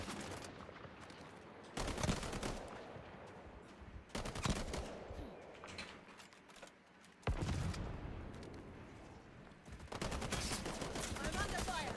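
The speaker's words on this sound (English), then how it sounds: "Firing on our foes." Video game gunfire in bursts, loud dense rapid shots separated by brief gaps, with a voice talking over the action.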